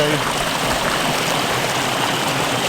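Steady, close rushing of creek water flowing continuously into a dam during seasonal flood rains, a dense broadband wash with no pauses.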